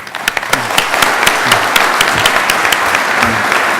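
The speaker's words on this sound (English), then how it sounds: "Can we get a round of applause?" Conference audience at a security keynote breaking into applause, a full, steady roar of many hands with sharp individual claps standing out, close and loud for the whole stretch.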